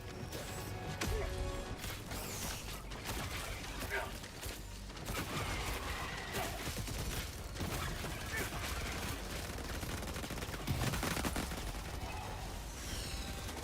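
A deployed turret in Helldivers 2 firing dense, continuous bursts amid other gunfire and explosions, loud and chaotic throughout.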